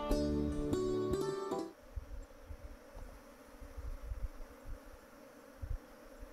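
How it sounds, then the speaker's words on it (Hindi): Small honeybees buzzing close around a person in the hills, a faint, wavering drone that follows a short burst of louder tonal sound at the start. "मेरे पीछे मधुमक्खियां लग गई हैं, देखो ये आपको आवाज़ आ रही होगी।"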